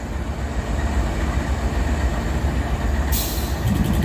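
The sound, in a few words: freight train with coal cars passing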